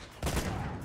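Gunfire in the video game Uncharted 2 starts with a sudden loud burst, followed by a rapid rattling volley. A brief quiet stretch comes before the shots.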